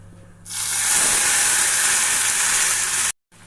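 A pinch of asafoetida dropped into hot oil with fenugreek seeds, a sudden loud hiss that holds steady and close for about three seconds, then cuts off abruptly.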